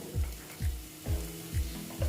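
Eggs fry in a pan under a steady sizzle, with five evenly spaced scraping strokes of a spatula sweeping through the pan.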